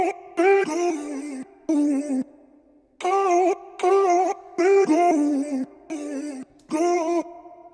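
Chopped vocal phrase treated with a Waves Meadow Flanger set to 15 percent mix, for a deep house or pop track, playing as short pitched syllables in rhythmic bursts separated by brief gaps, loud and upfront with no talking.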